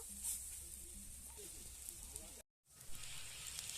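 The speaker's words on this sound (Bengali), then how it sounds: "আমি হালকা তেলে ভেজে নিচ্ছি আপনারা চাইলেন ডুবো তেলেও ভাজতে পারেন" Fritters of thankuni greens sizzle steadily in shallow hot oil, a soft continuous hiss that cuts out for a moment before resuming.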